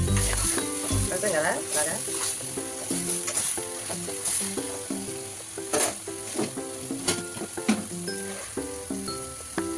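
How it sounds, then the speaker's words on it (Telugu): Dried prawns frying with ridge gourd in a pan, a steady loud sizzle with repeated scraping stirs and clinks throughout, someone speaking briefly over it. "రొయ్యలు వేసుకోవాలి."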